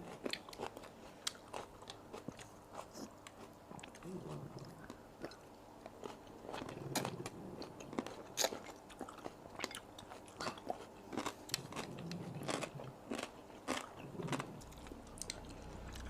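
Crisp, crunchy chewing of a spicy Thai pounded salad made with gong choi vegetable and small green eggplants, close and steady with repeated bites and crackles, alone without talk.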